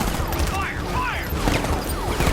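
Armed troops open fire in a Batman video game, rapid bursts of gunfire layered with whooshing and ricocheting effects, loud and continuous, with shouted voices mixed in.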